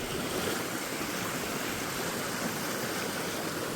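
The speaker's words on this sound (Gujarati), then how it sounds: "વહેતું પાણી હો ભાઈ" Flowing stream water in Gir forest makes a soft, steady rushing hiss, faint and even, with no voices and no distinct splashes.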